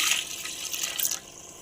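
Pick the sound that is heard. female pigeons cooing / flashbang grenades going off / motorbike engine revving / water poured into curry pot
water poured into curry pot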